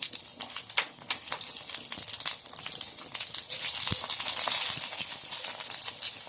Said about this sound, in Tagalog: Lagay na natin, pagsabay na natin yung bawang at saka sibuyas.